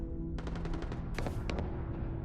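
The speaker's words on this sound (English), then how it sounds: "I hear gunfire." Video game gunfire rattles in two short bursts of rapid shots at moderate distance, each volley a quick string of cracks over a steady background hum.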